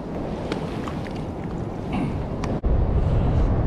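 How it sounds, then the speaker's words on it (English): Ocean surf washing in on a Jacksonville, Florida beach, a continuous rushing hiss under buffeting wind that swells louder near the end. "Now, here comes the ocean."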